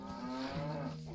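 Cattle low in the farm-building game Stronghold Definitive Edition, one drawn-out moo with a falling pitch, clear and close with no voices over it.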